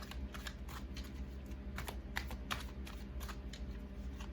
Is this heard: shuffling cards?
yes